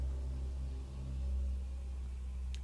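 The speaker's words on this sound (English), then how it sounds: "there was a car, a very loud car." A very loud car passes by outside, its deep engine rumble filling the low end steadily and swelling slightly midway, heard from indoors without any talk.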